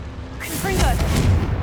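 A Confringo spell blast in the Hogwarts Legacy video game gives a loud whooshing burst with a rising, crackling fiery tone and a low rumbling boom underneath, lasting about a second.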